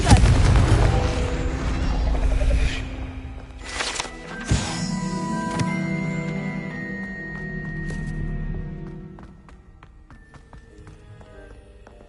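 The Confringo blasting spell in Hogwarts Legacy explodes as a loud, booming blast with a sharp crack, then a shimmering, ringing tail and scattered crackles that fade to a quieter hum.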